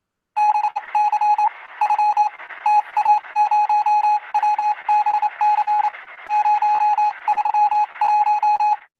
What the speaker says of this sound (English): this is Morse code